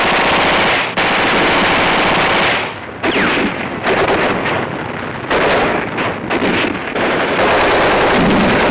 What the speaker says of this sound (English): the old Vickers machine gun that was used in the First World War